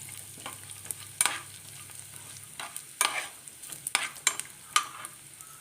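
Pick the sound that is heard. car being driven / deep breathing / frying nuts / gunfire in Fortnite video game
frying nuts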